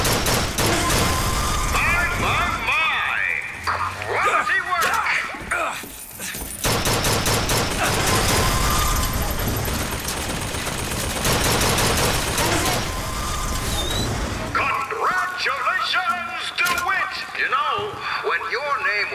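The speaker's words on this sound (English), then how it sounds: "Now what's shooting at me?" Heavy gunfire erupts in Bioshock Infinite as enemies shoot at the player, with loud overlapping bursts and rattling volleys almost throughout, a short lull midway, and game voices heard among the shots.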